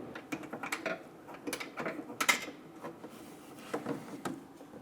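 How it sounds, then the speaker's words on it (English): A 1/4-inch ratchet with a 10mm socket removes the headlight bolt on a 2005-2015 Toyota Tacoma, making a run of quick close clicking ratchet strokes with brief pauses. "We're going to use a 1/4" ratchet with a 10mm socket and remove that bolt."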